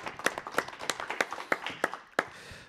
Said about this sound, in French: Ça, on peut applaudir